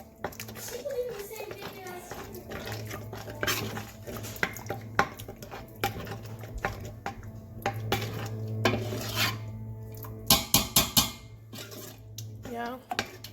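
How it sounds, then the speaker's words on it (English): A pot of black soup being stirred in a home kitchen, with repeated metal scraping and clinks of a spoon against the pot, a few sharp knocks near the end, under ongoing talk. "Just have to stir it and make sure it's mixed."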